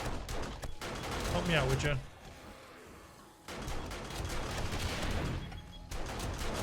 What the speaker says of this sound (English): Alright, SMG turrets, go.